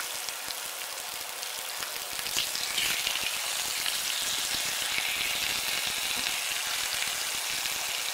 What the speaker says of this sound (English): Probably shouldn't have started that pan yet, because now the salmon's gonna be done before everything else.